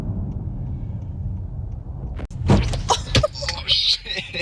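A Hyundai car engine, pushed to about 3,000 RPM while driving, drones low and steady, then gives way to louder cabin noise as voices exclaim over it.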